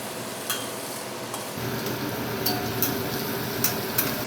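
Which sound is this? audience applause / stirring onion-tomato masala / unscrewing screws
stirring onion-tomato masala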